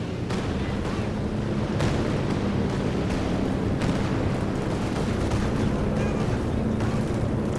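Land Mattress rocket barrage firing in Company of Heroes 2, a dense, continuous rumble of launches and booming impacts with repeated sharp bursts throughout, loud and sustained in a battlefield mix.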